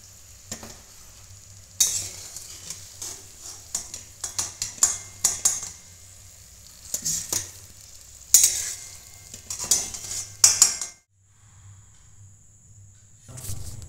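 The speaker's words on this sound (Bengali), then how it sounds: "বাকিগুলো আমি এইভাবে ভেজে নেব" Homemade samosas fry in hot oil with a soft, steady sizzle under frequent, uneven clatters and scrapes of a metal utensil against the pan, then a brief quiet stretch near the end.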